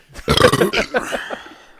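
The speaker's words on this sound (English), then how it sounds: "Now they're burping into the mic." Someone lets out a drawn-out, gravelly burp close into a microphone during a casual beer-tasting podcast, loud at first, then trailing off.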